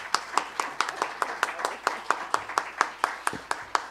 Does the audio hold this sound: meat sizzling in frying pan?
no